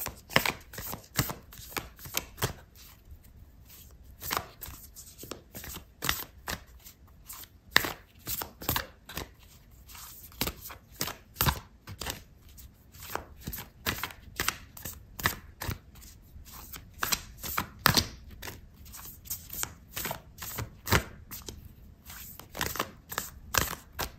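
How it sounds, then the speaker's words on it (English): Oracle cards shuffled by hand for a Sagittarius reading, a long run of close, crisp riffling and slapping bursts in an uneven steady rhythm, with no talking. "I'm going to pull out an oracle card for you"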